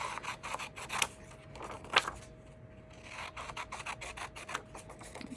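Scissors trim a printed paper sign for Valentine's Day tiered tray decor, giving a few close, crisp snips spaced about a second apart over quiet shuffling of paper.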